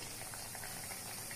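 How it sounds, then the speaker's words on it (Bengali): Pieces of food fry in hot oil over a medium flame with a soft, continuous bubbling and fizzing, faint and steady throughout. "এটা কিন্তু মিডিয়াম আঁচেই ভাজতে হবে।"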